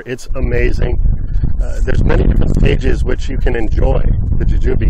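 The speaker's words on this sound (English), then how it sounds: "Sorry about the wind if it's coming through." Wind buffets an outdoor microphone on a windy day in a fruit-tree garden, a steady low rumble running beneath continuous close talking.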